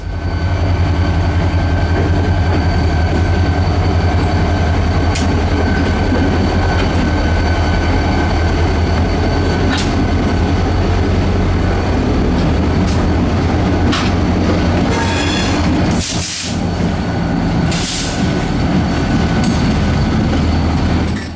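A Reading and Northern freight train pulling in rumbles loudly and steadily close by, with rattling railcars and a few brief wheel squeals near the end.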